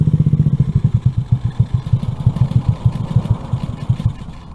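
A Honda NAVI motorcycle engine runs with the choke on, chugging in a loud, fast, steady thumping rhythm up close before fading out as it dies.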